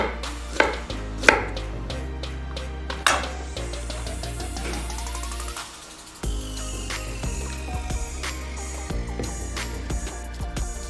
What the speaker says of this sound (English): We're just going to roughly chop our ginger.